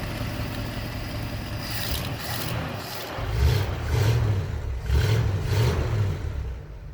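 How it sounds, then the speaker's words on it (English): An old 1964 Ford FE V8 engine runs at close range, a low rumbling idle that swells with a few revs partway through. "fired right up, and idles perfect like an FE always seems to do"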